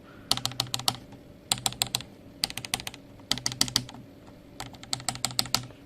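Bursts of crisp mechanical keyboard typing on a Machenike K600 Lite with tactile switches, in quick clusters, each keystroke a sharp clack, with short pauses between groups; close and fairly quiet.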